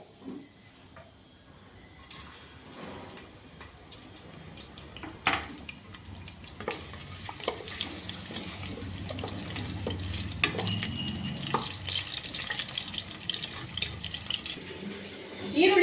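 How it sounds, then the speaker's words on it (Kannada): Whole spices such as star anise, cinnamon and cloves fry in a pan for a capsicum rice dish, giving a steady hiss with scattered clinks and scraping, louder after the first couple of seconds. "ಒಂದು ಅನಾನಸುವ ಚಕ್ಕೆ ಲವಂಗ ಇಷ್ಟನ್ನು ಕೂಡ ಫ್ರೈ ಮಾಡೋದಕ್ಕೆ ಹಾಕೋತೀನಿ"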